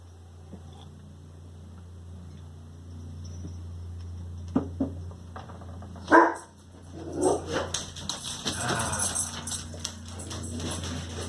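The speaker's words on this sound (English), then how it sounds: "Can't do a video without the dog freaking out." A dog barks a few sharp times at moderate distance, then whimpers and yelps in an agitated run, over a steady low electrical hum with no talking.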